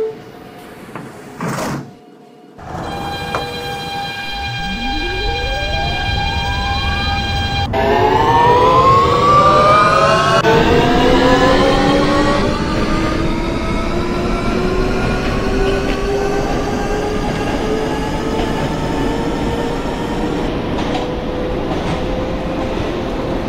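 An R160 subway train on the F local in the OpenBVE train simulator game: door chimes and clunks sound first, then the traction motors whine upward in pitch as the train accelerates and rolls on with a steady rumble.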